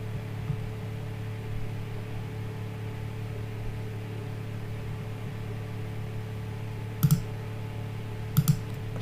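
Two quick pairs of soft computer mouse clicks near the end, close and faint, over a steady electrical hum in a quiet room.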